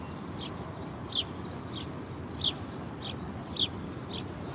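High, thin bird chirps repeat at a steady pace over a constant low hiss, each call brief and moderately faint.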